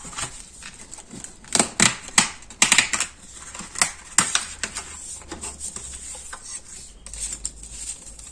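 Paper parts from a Stamperia explosion box kit are cut out up close, giving a series of crisp, irregular snips and clicks with quiet pauses between them.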